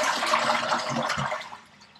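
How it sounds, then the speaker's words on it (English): A leaking Porcher toilet in an Australian bathroom flushes with a rush of water that gradually tapers and fades as the cistern empties. "We can do the flush."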